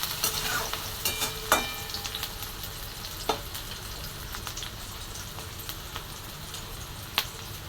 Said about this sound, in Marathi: आणि असं मिक्स करून घेते बघा मिरच्या आणि कांदा असं